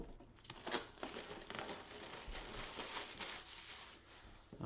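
Plastic shrink wrap being torn and peeled off a Gears board game box, a continuous close crinkling and crackling with a few sharper tearing bursts, fairly quiet, no talking.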